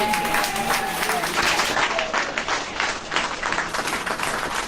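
A crowd at an outdoor government press announcement in Louisiana claps steadily, a moderately loud spattering of hands with voices mixed faintly through it.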